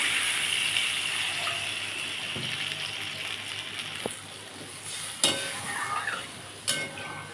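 Water is poured into sizzling, well-fried masala in a pan while cooking besan dhokar dalna. A loud hiss and gush fades into softer bubbling, broken by a few sharp clinks of a spoon against the pan.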